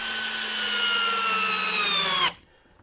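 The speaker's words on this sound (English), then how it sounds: "I put it onto drill." A cordless power drill runs in drill mode at high speed, boring into a surface while LED light panels are being installed. The whine climbs steadily for about two seconds, then cuts off abruptly, leaving quiet.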